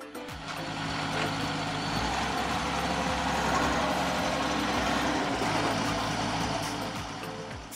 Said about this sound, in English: Mitch is going to lift the back of the truck now and dump its load.